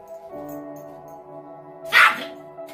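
A Yorkie gives one sharp, close bark amid a low whine, with a brief pause of quieter sound before and after.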